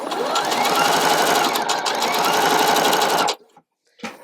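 Sewing machine stitching a quilt block along a marked line, a loud steady run of rapid needle strokes for over three seconds before stopping, followed by a faint brief clunk.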